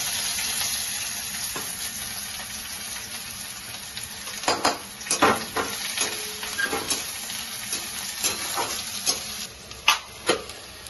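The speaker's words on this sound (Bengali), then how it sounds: "এবার আমি একটা শুকনো লঙ্কা দিব ফোড়নে, তেলে ছেড়ে দিব, ফোড়নে দিব।" A dried red chilli crackles in hot oil for tempering dal, a continuous sizzle punctuated by sharp spattering pops and spoon scrapes against the pan, with no talking.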